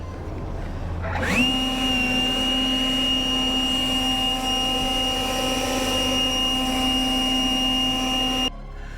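A high-pitched air blower starts up and runs steadily at close range, drying carbon ceramic brakes and wheel rims, with a sustained whine and strong rushing airflow before it cuts off near the end.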